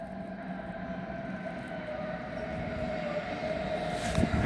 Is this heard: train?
yes